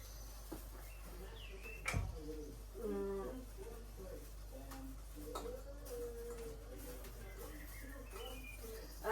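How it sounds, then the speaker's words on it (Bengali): Pigeons or doves coo softly outdoors beside a home kitchen during cooking, a few short cooing phrases and faint calls over a quiet hum, with a sharp knock partway through. "কি সুন্দর পাখিতে ডাকতাছে"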